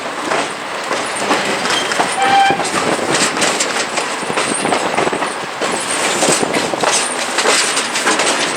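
An 1880 tourist train rolls along the rails near a depot in Hill City, South Dakota, with steady rumbling and rhythmic clickety-clack of wheels, close and loud, with a faint whistle tone briefly mid-run.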